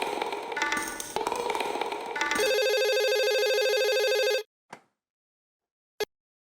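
A telephone call is placed to a company: first a jumble of tones, then a steady electronic ringing tone holds for a couple of seconds before cutting off, followed by two brief isolated clicks.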